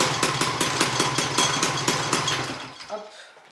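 An old Mobylette moped engine, mounted on springs, runs close by with a rapid, rough pulsing chug, then is switched off and sputters to a stop.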